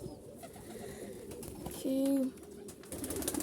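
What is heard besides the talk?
pigeons cooing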